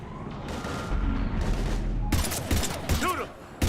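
Gunfire in the shooter game Mass Effect 3: dense rapid volleys and bursts crackle loudly and close, with shouted voices mixed into the chaotic firefight.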